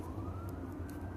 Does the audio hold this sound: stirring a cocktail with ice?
no